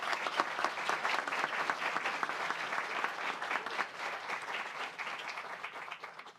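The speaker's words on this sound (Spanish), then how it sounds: "Un aplauso, por favor." An audience at a book presentation hosted by an electoral tribunal claps steadily in a hall, a sustained round of many hands at moderate distance that slowly tapers off without speech over it.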